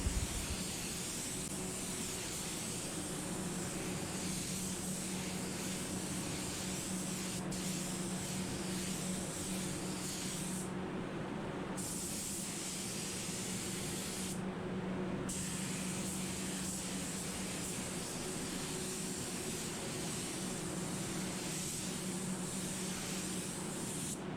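Spray gun steadily spraying tinted clear candy paint onto a panel, a continuous loud hiss with two brief breaks in the spray, no talking.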